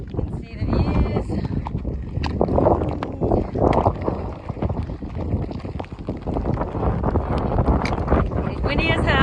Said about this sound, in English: It's windy as hell and rainy as hell.